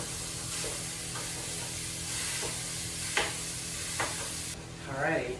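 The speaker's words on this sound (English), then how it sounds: "Now it's time to put your ground beef in there. Chop it up into small pieces." Ground beef sizzles and fries in a pan while a utensil chops and stirs it, scraping hits landing every second or so over a constant hiss.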